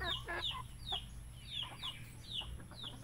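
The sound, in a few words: chickens clucking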